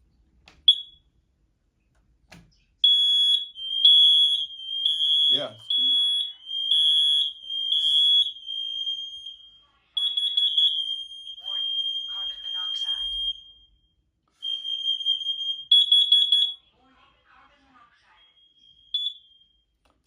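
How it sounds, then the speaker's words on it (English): A Kidde combination smoke and carbon monoxide alarm sounds a loud, piercing test tone in repeated bursts that stop and start, with a brief spoken word early on. "Now I'm gonna test it and see if it's communicating with all the other alarms."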